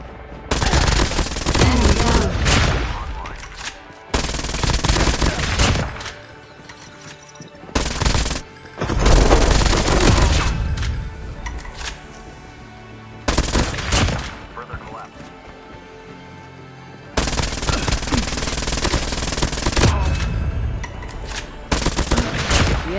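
In Call of Duty Mobile Battle Royale, a MAC-10 submachine gun fires in loud rapid bursts split by short pauses, with a voice talking over the shooting.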